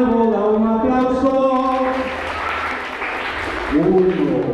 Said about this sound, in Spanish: Uy, vamos a ver cómo es un aplauso.